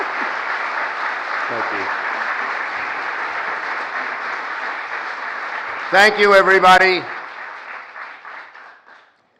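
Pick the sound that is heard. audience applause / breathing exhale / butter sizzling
audience applause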